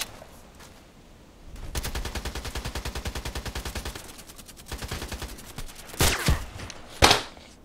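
Sustained automatic gunfire in a sniper shooter game, a rhythmic stream of rapid shots lasting several seconds, then a pause and a few heavier, louder single blasts near the end.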